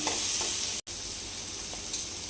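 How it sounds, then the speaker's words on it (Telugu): Chana dal fries and is stirred in a pan, a loud close steady sizzle with a brief dropout of sound in the first second before the frying hiss resumes. "పచ్చిమిపప్పు వేసుకుందాం ఇప్పుడు దీన్ని బాగా కలుపుకోవాలి"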